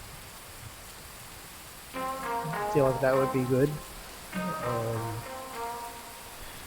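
Steady rain patters across a VR fishing game scene, a constant soft hiss running beneath the whole stretch while someone talks over it.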